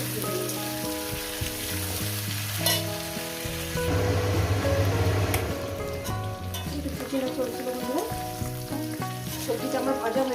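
Green chilies fry in oil in a pan for shukto. A continuous crackling sizzle sits under music throughout.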